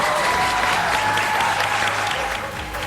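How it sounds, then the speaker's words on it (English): A studio audience at a TV news broadcast breaks into brief applause, a dense burst of many hands that holds steady and then starts to fade at the end. "one hand clap, and then that's the only time you can make noise in here"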